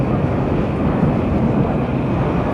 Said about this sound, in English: A train's just passing right now and I can't even hear my voice.